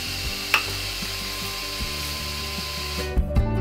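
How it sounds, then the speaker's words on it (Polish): Fan hum and whir of an Anet A6 3D printer, steady with faint tonal drones and a few light clicks, its airy hiss dropping away near the end as the fan slows once the heated bed switches on. "co objawia się spadaniem obrotów wentylatora po włączeniu grzania stołu"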